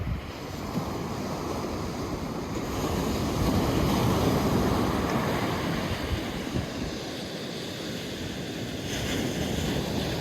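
Waves roll onto a beach as the tide floods in, a continuous broad wash of surf with wind buffeting the microphone, swelling and easing over several seconds with no voices.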